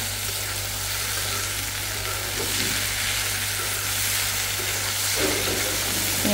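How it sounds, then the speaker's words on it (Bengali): Potatoes for aloo bhaji frying in a pan, a loud continuous sizzle with occasional stirring scrapes and a low steady hum underneath, no voices. "তো এই তো অল্প করে একটু আলু ভাজি করতেছি।"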